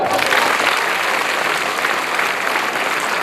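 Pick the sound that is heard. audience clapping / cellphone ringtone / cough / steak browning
audience clapping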